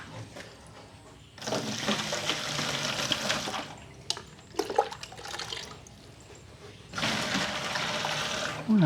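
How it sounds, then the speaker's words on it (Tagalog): Water is poured into a chicken drinker in bursts, loud rushing splashes separated by quieter pauses with a few clanks in between. "Ngayon, lalagyan natin ng tubig."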